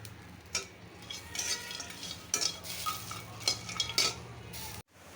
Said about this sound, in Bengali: এটাকে কাঠখোলা বলে যেটাকে তেল ছাড়া ভাজা হয় আস্তে আস্তে ভাজবে